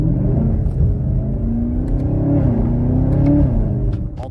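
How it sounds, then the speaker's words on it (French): A Chevrolet Camaro ZL1 Collector edition accelerating hard to overtake, its engine revving loudly with a steady heavy rumble and a rising, shifting tone, close up with no talk. "Si tu veux dépasser, tu fais comme ça, tu accélères et la voiture fait ce qu'elle veut"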